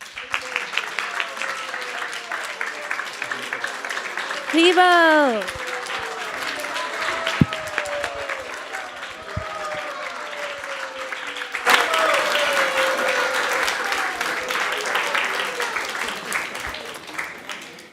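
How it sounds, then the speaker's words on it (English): A huge round of applause for participants at a Krishna Katha gathering, dense clapping with cheering and whoops throughout, one voice shouting briefly and a fresh surge of clapping near the end. "A huge round of applause."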